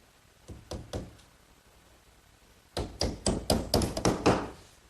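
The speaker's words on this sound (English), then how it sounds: "I'll fasten it with these little 5-penny box nails" Small 5-penny box nails are hammered into the back panel of a wooden bookcase: three sharp close taps, a pause, then a quicker run of about eight solid strikes.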